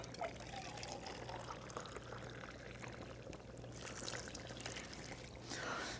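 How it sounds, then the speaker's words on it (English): Boiling water pours from a jug into a soup pot, a soft continuous trickling splash lasting several seconds, fairly quiet and close, with a brief stronger gush near the end. "then we're going to add another can of hot water, of boiling water from the jug"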